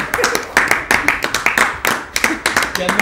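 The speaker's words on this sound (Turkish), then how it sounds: "Kendimi alkışlıyorum." Hands clapping in quick, slightly uneven bursts, close and fairly loud, with some chatter in the background.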